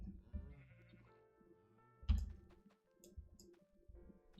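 Sheep in a farming video game bleat several times, fairly close and clear, scattered across the moment with small ticking game sounds between them.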